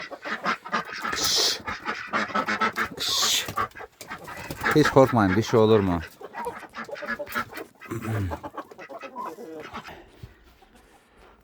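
Ducks quack and honk in a busy cluster nearby in a snowy winter poultry yard with chickens, a person speaking over the birds now and then; the noise fades toward the end.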